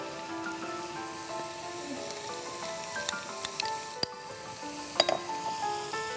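Chopped carrots and other vegetables for vegetable pulao fry in a pan with a soft, steady sizzle, punctuated by a few sharp clinks and stirring knocks of a utensil.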